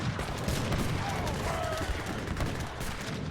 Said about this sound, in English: All Gatling guns firing away.